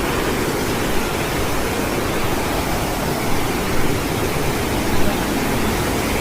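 Kate Khola, a large mountain river in Baglung, Nepal, roars as a dense, loud, continuous rush of water close at hand, with faint voices buried under it.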